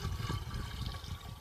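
Watery top layer of an earthen plaster mix made with rock screenings poured off from a bucket, a steady close sloshing pour with low gurgling body lasting the whole moment.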